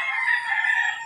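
A gamecock crows once in a single loud, sustained cock-a-doodle-doo close by while the birds are being transported home by vehicle, with no talk over it.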